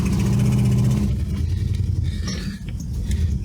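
A big-block Ford station wagon engine holds a loud, rough low rumble that drops back and then surges again in short revs, close up and without talk.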